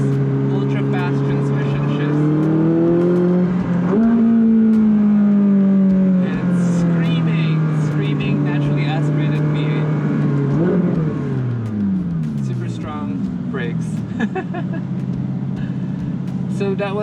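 Ferrari 458 Speciale with stock exhaust and naturally aspirated engine, revving loud and close through rapid downshifts and ultra-fast gear changes, pitch sweeping up and down with sharp breaks at each shift.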